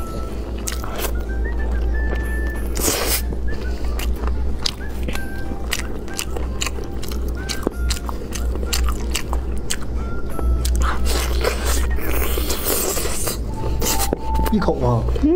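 Braised chicken wings are bitten and chewed close up, with wet, squishy mouth sounds and small crunches repeating steadily while a person talks intermittently over them.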